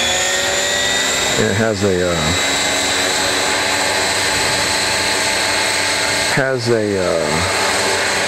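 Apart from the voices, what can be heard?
Roban HH-60 Jayhawk RC helicopter motor running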